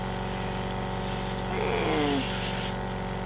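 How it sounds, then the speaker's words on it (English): Airbrush sprays brown and yellow cake colour off to the side while decorating a burger-shaped cake, a steady close hiss throughout with a slightly louder burst midway. "spray a little bit off to the side,"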